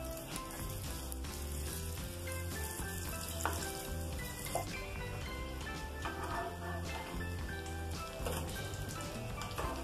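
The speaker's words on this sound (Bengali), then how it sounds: "পাউরুটির টুকরোগুলোর দু পিঠি এইভাবে লাল লাল করে ভেজে নিতে" Bread slices coated for cornflakes French toast fry in oil, a continuous crackling sizzle heard under steady background music throughout.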